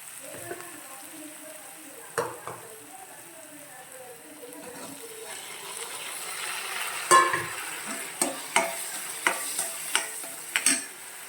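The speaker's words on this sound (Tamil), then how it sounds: "வெங்காயம் நல்லா வதங்கட்டும்." Onions sautéing in a pan for drumstick kootu make a soft, continuous sizzle. A spoon stirs and scrapes against the pan in a series of sharp, regular strokes that grow more frequent toward the end.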